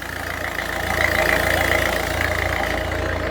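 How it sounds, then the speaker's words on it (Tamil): A 2012 Ford Figo diesel engine idling close up, a smooth steady mechanical drone with a faint regular clatter, swelling slightly and then holding even throughout. "டீசல் இன்ஜின் பக்கா நாய்ஸ், ஒரு துளி எக்ஸ்ட்ரா நாய்ஸுமே இருக்காது."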